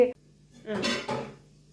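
Old, rusted steel vessels and an unused kettle are set down together, giving a short metallic clatter and a couple of ringing clinks close by, with a brief spoken sound just before.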